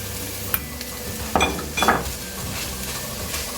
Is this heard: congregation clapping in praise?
no